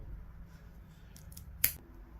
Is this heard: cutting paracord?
yes